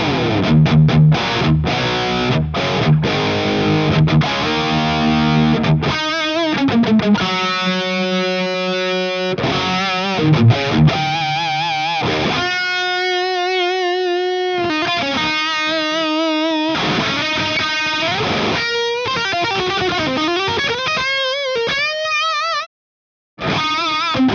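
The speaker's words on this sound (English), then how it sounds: "Let's go on to the next tube screamer sound, which is the XR." Electric guitar played through a Polish-made XR Tube Screamer overdrive pedal, loud and distorted, opening with chugging riffs then moving into sustained overdriven lead notes and bends, with a short silent gap near the end.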